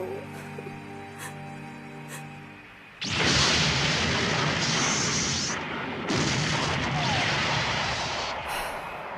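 An anime battle in which a tonal musical passage gives way to a sudden loud roar of missile fire and rumbling explosions that continue densely, with sharp bursts near the end.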